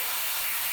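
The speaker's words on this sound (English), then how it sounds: "I'm spraying my white on now" An airbrush sprays white paint onto a plastic model kit of an A-4 Skyhawk aircraft, producing a steady, close, loud airy hiss that runs unbroken throughout.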